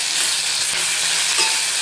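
Tomatoes frying in a pan with sautéed onion, garlic and curry leaves, a steady, loud, hissing sizzle throughout with a faint stir near the middle and no talk.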